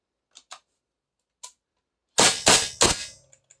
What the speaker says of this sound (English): let me turn off this air and disengage my lock bolt so I can take this out.